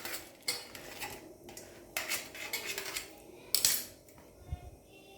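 A knife clicks and taps against a plate or board while the stem is cut off a peeled, fire-roasted brinjal, a few sharp metallic knocks spaced irregularly, close and fairly quiet with no talking.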